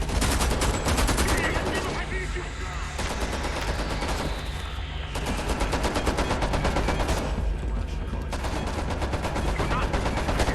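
Sustained automatic gunfire fills a firefight in the video game Homefront: The Revolution. Loud, dense, rapid bursts run almost without a break, with a few brief gaps between volleys.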